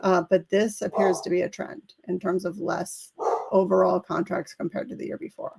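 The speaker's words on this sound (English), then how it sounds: "Apologize for the barking dog in the background." A dog barks in the background during a live real estate market update, with yips and bow-wows faintly mixed in under continuous talk from a man presenting.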